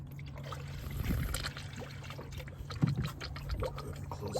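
Coolant gurgles and bubbles air out of an open car radiator during a thermostat replacement: a continuous, wet, low burbling with scattered bubble pops, close by and fairly quiet, with no talking.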